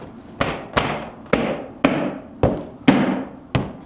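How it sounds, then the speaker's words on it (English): A car's rear bumper being tapped back into place during masking for paint, giving seven sharp, evenly spaced knocks about half a second apart, close and loud with no talk. "tap that back bumper right back in"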